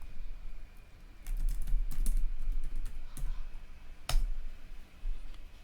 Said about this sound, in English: Type your password which you entered when creating the instance.